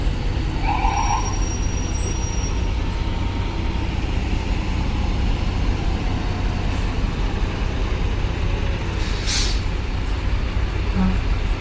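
Heavy trucks rumble past continuously in loud traffic at Bakauheni port toll gate, with a brief high hiss of air brakes near the end.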